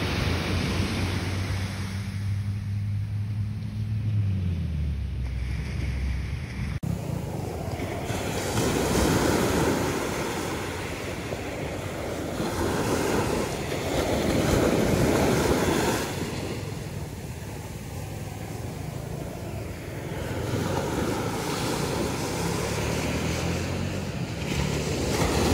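Sea waves wash onto the shore near Phuket in a continuous loud roar of surf, with wind buffeting the microphone and a low engine drone at the start.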